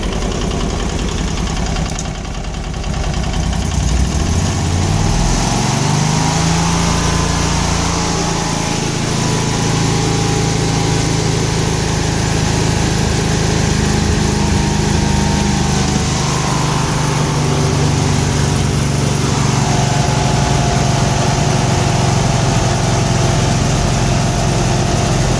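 A Vanguard engine converted to run on propane idles with its idle speed raised, a loud continuous close drone that climbs in pitch after a few seconds and then holds steady.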